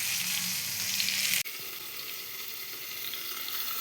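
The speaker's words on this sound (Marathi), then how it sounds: "मच्छी तल रही" Bangda fish frying in a pan gives a steady, close hiss of sizzling oil that drops abruptly in level partway through, as if covered, then keeps crackling more softly.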